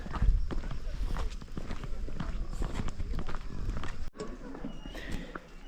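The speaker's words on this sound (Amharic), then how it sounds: "አሁን ፈረስ መጥቶልናል።" Hooves clip-clop as a horse arrives on a road near a coffee forest, a steady nearby run of thuds under ongoing talk and outdoor background noise.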